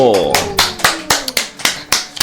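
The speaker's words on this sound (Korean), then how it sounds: "박수." A short burst of hand clapping, around eight crisp claps in a quick, slightly uneven rhythm, close and loud, with a voice briefly heard at the start.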